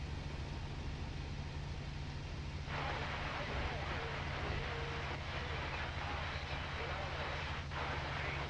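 In the IL-2 flight game, a Bf 109 F drones with a steady low engine hum as its landing gear and flaps come down, a mechanical shift appearing partway through amid a faint cockpit rumble.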